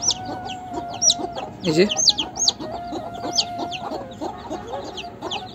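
Newly hatched Silkie chicks, some with feathered feet, peep in rapid high chirps alongside clucking fowl, with a steady hum beneath and a voice speaking briefly.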